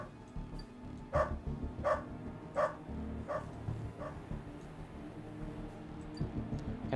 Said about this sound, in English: I saw a dog